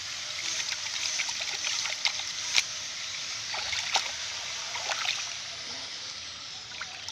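Fermented mustard cake fertilizer liquid strained through a net, a soft continuous trickle and splash of liquid with small drips and sloshes, close and quiet, no talking.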